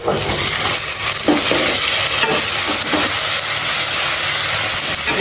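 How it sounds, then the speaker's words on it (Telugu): Masala for green chicken biryani fries hard in a pan and is stirred, giving a loud, continuous sizzle with occasional scrapes of the spoon. "బాగా కలపాలండి. బాగా మసాలా కానీ బాగా ఎర్రగా కావాలండి."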